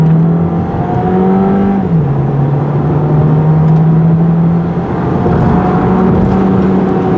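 A 2023 VW Jetta 1.5-liter turbo accelerating, its engine drone climbing steadily through gear shifts with a loud, close, continuous hum and road noise and no talk over it.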